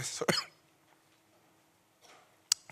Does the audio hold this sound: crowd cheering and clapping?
no